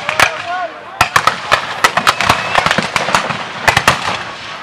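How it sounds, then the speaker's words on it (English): Cavalry fire carbines at a Civil War reenactment muster, a rapid irregular volley of loud cracks and pops, with a voice talking in between. "They have carbines in their hands and firing away."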